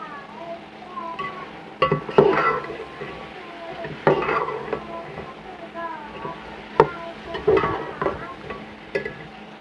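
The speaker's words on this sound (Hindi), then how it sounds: "इसको हम पहले अच्छे तरीके से भूनेंगे" Chicken and chickpeas fry in a pot while being stirred, with a steady sizzle and several sharp clanks of a spoon against the metal, close and clear throughout.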